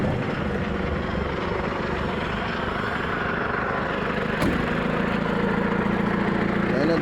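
A Toyota 14B diesel engine with an aftermarket turbo, fitted into a modified Nissan Terrano 4x4, runs at a steady idle. A low, continuous drone fills the clip and holds a steady tone near the end.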